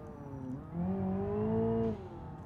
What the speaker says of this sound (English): You can hear the wastegate.